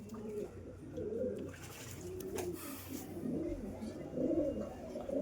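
Pigeons coo repeatedly and close, their low throaty calls overlapping in a steady stream over a faint background hum.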